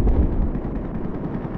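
Dense rapid gunfire from the video game Battlefield 4, on the Zavod 311 map, rattles continuously as a loud, unbroken barrage with no clear gaps.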